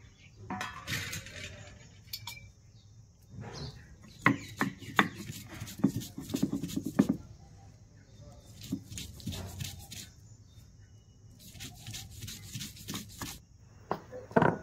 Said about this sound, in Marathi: छान डाळ वाटून घ्यायची आहे।